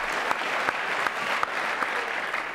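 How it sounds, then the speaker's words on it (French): An audience applauds the Trophée Andros racing team in a television studio, a steady wash of clapping with a few sharper individual claps poking through, moderately loud and continuous. "Voilà, vous pouvez les applaudir."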